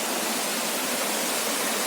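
Small cascading waterfalls in Carpathian foothills rocky valley give a steady, dense rush of falling water, continuous and fairly close, with no voices.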